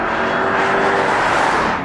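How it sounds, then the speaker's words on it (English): A Jeep Grand Cherokee Trackhawk SUV's engine roars steadily at speed on a mountain road, with a loud continuous rush of road and wind noise. "Cruising along down this mountain road at incredibly fast sports car speeds is possible in this massive Jeep Grand Cherokee"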